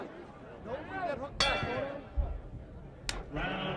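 A boxing bell clangs twice with sharp, ringing strikes over a noisy crowd and an excited commentator talking at a heavyweight fight.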